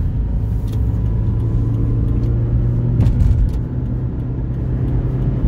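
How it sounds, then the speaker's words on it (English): Steady, loud road traffic with cars and other motor vehicles passing close by, a continuous engine rumble and tire roar across the whole stretch with no one talking. "No shortage of traffic out here. Lots of traffic."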